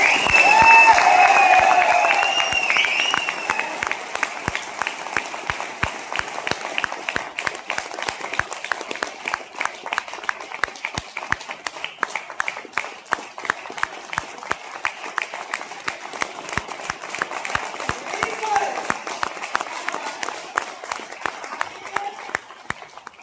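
Loud applause from a seminar audience, dense clapping that starts strongest and continues steadily for over twenty seconds with a crowd murmur underneath.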